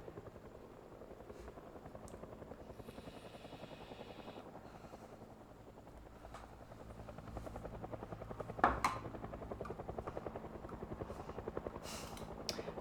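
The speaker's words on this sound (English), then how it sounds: "Whoever's in that helicopter, they're as bad as the zombies." A helicopter in the Project Zomboid video game thrums overhead in a steady, rhythmic rotor chop that holds at moderate loudness for the whole stretch, with a sharp thud partway through.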